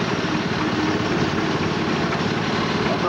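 A working tractor at an older farm show runs steadily with a low, continuous engine rumble, close by and even throughout, with faint background murmur.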